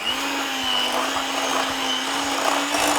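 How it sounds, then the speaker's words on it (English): Electric whisk beating thick choux pastry mixture for chocolate and caramel profiteroles, a loud, steady, close motor whine that runs throughout with no talking. "Whisk it either by hand or, in my case, an electric whisk."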